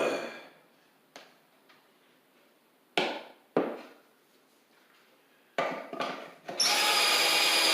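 A power drill drives 3/4 inch Kreg pocket hole screws into plywood cabinet parts, several short sharp bursts separated by quiet gaps, ending in a longer, louder continuous whirr.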